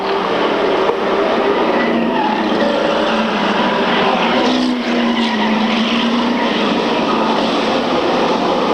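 Stock cars racing on a short track, with a Buick leading a 10-lap semi-final qualifier, roar steadily and loudly throughout, a dense continuous engine drone with passing cars swelling and fading.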